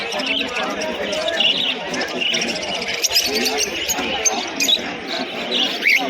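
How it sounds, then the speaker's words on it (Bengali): Caged lovebirds and cockatiels at a pigeon and bird market give scattered high chirps and tweets amid busy crowd chatter, with people talking close by. "এখানে কিছু লাভ বার্ডসের কালেকশনও আছে আপনারা সব করুন লাভ বার্ড পাখি"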